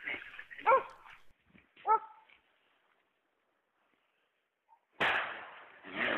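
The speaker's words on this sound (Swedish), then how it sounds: "en av jakthundarna som får korn på björnen och skäller en bit därifrån" A hunting dog on a Swedish bear hunt barks at a bear a short way off: a few sharp barks over the first two seconds, then a lull, then a sudden burst of loud rustling noise.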